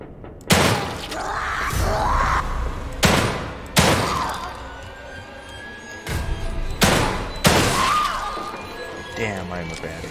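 Gunshots in the survival horror game The Evil Within 2, a handful of sharp, loud, close blasts spaced a second or two apart, each with a short echoing tail over a tense background.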